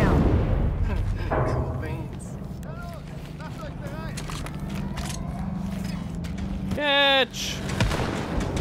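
A sabotaged launcher blows up in Wolfenstein: Youngblood with a sustained, roaring low rumble of explosion and debris, rising to a loud burst near the end, under character dialogue.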